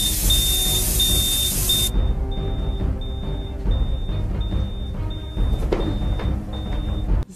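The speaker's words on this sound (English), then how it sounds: "The alarm is going." An alarm beeps in a steady, rapid series of high-pitched tones, repeating evenly over a low rumbling background, fairly close.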